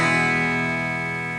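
Electric guitar played through an amp with the preamp gain turned down for a clean tone, a single sustained chord ringing out steadily and slowly fading over a short moment.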